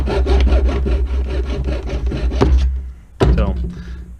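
Sawing and rasping while trimming a plastic part for a Bruder D11 RC bulldozer conversion: a rapid run of rough strokes, close and fairly loud, pausing briefly before one more short burst.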